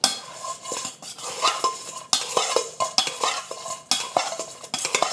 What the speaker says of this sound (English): Some of the cilantro, some of the green onions, and we're gonna toss this.